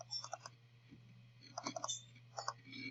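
Computer mouse clicking while a photo is picked from course files, heard as a few faint, quick clicks in small clusters over a steady low hum.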